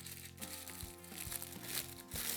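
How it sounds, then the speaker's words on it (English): A circle of baking parchment paper is crumpled by hand close up, producing soft crinkling and crackling with a few sharper crunches, fairly quiet and alone with no talking. "Crumple it up really, really well."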